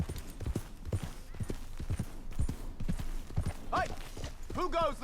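An agitated horse in the Red Dead Redemption 2 video game, rapid clip-clopping hooves close by followed by a couple of sharp neighs, with people talking over it.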